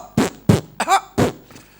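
A person coughs four or five times in quick succession, close and loud, short harsh bursts with brief gaps between them, with no other talk.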